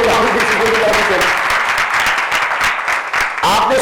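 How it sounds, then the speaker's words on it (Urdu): A church congregation at a Sunday meeting bursts into loud, sustained applause from many hands, with dense clapping that fades slightly near the end. Voices can be heard faintly beneath the clapping. "تو تالیاں بجائیں اپنے لیے، خدا کی شکر گزاری کریں۔"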